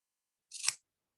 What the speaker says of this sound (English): I have these little tails that are hanging from the welt. I am just gonna cut them to the base here